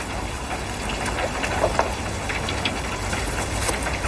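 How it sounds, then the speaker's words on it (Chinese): Steady rain falls outdoors as a dense, even hiss with scattered drop patter, continuous and fairly close throughout. "哎，下雨呢。"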